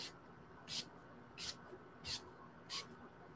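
Wet n Wild Photo Focus setting spray in Rose misted onto a face, four evenly spaced close hissing spritzes over a faint room background.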